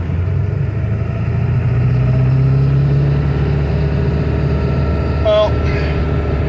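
Pickup truck driving through a neighborhood after a driveshaft repair, a loud steady low engine drone and road rumble throughout, with a brief voice near the end.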